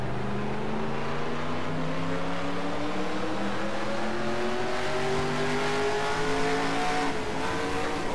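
Race car engine in NASCAR Racing 2003 with the Real Life Car Sounds 4.0 pack, droning steadily at high revs with slowly rising pitch and a busy track roar, with no voices.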